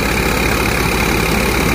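Steady, loud drone of a tractor engine powering a Mukandgarh thresher, its low rumble and broad grinding noise unbroken from start to finish, with no voices.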